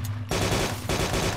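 Full-auto gunfire from a weapon in the Arma 2 DayZ Mod video game: two loud, dense bursts of rapid shots, the second starting just under a second after the first, with no talk.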